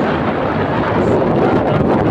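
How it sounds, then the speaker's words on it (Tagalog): Heavy wind roaring and buffeting the microphone at a construction stockpile area in Santa Rosa, Laguna, a loud, constant rumble with no speech. "napakalakas ng hangin dito sa ating kinalalagyan"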